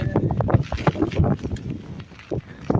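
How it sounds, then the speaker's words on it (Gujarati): Strong wind buffets the microphone in rumbling gusts across a farm field during rain, with a voice speaking intermittently over the blustery noise. "કેટલો મતલબ ફૂલ પવન છે"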